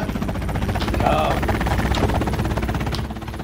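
A helicopter in Garry's Mod dragging a dinosaur, a steady rapid rotor chop filling the scene at close range with a voice talking over it.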